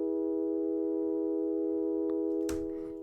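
A steady, buzzy sawtooth synthesizer tone with its brightness rolled off by a low-pass filter, holding one pitch, then a short burst of noise near the end.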